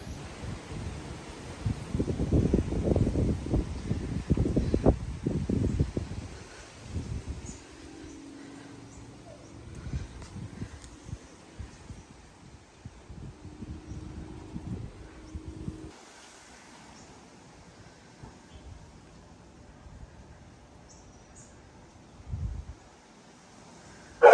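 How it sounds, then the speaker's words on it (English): Gusts of wind buffet the microphone outdoors, strongest early on, then easing into a softer, steady rush with occasional rustling. "It's getting so windy out here."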